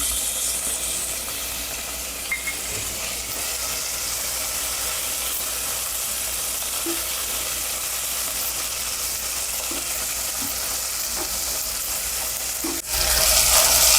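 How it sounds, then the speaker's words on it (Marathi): Tomato and ginger-garlic paste frying in a pan for a mixed-sprout curry, giving a steady, even sizzle close by that runs almost unbroken, with a brief louder burst near the end. "आता टोमॅटो टाकते आणि आलं लसूण पेस्ट एक चमचा"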